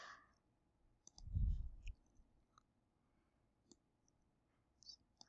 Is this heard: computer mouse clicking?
yes